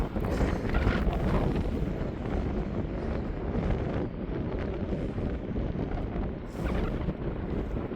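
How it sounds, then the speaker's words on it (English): Breezy coastal wind at Widemouth Bay buffeting the microphone, a steady loud rumbling roar with gusty swells throughout and no voices. "Oh, it's a bit breezy."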